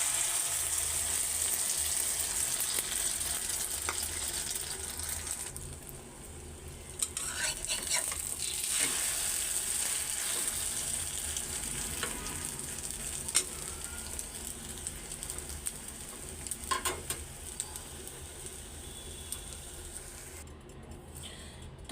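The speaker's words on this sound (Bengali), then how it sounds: "তেল গরম হয়ে গেছে, ডিমটাও ভাইজা নেই।" An egg fries in hot oil in a home kitchen with a soft, steady sizzle that hisses continuously throughout. Occasional faint clinks and stirring touches sound in the background, and no one speaks.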